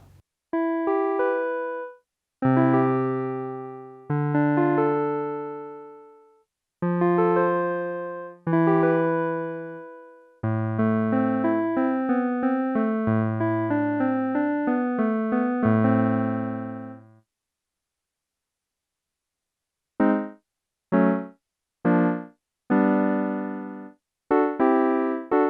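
A repaired Technics SX-K200 electronic keyboard plays its piano voice, close and clear: a string of separate struck chords and notes decaying one after another, a denser run of repeated chords in the middle, then a short burst of staccato chords after a pause.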